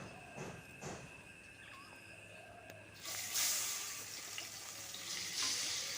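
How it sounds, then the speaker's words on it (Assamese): Salted, turmeric-coated fish frying in hot oil in a home kitchen, a soft crackling sizzle that swells louder and brighter halfway through, with faint clinks and spatters throughout. "এয়া মাছখিনি অকণমান ফ্ৰাই কৰি লওঁ ভাবিছোঁ।"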